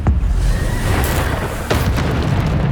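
The Bombarda explosion spell goes off in the Hogwarts Legacy video game, a heavy booming blast with a deep rumble and a couple of sharper bursts, loud and close.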